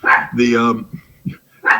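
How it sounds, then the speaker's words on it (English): A puppy barks loudly and close by, giving a few sharp yips and barks in quick succession with short pauses between them. "besides my dogs taking umbrage at what I'm saying, this is the danger of buying a puppy. He just decides to bark."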